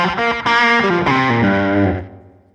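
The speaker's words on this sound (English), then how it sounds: "I've got a tape echo here, which I'm messing around with." Electric guitar on a pedalboard through a tape echo set to a short slapback, a couple of loud distorted chord strums with a quick repeat tail that fades out at the end, no voices.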